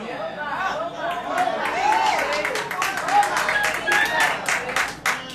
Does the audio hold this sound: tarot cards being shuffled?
no